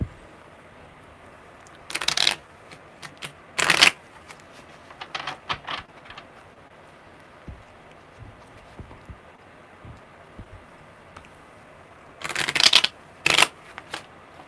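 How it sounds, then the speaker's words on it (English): Tarot cards shuffled in bursts of quick riffling, with soft handling taps between, fairly close and quiet. "I can feel it in the cards when I shuffle."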